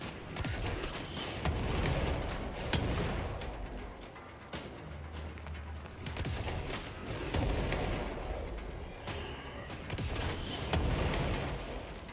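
Chaotic rumbling blasts and crackling bursts of combat in the video game Control, with deep booming explosions rolling through a dense, noisy mix.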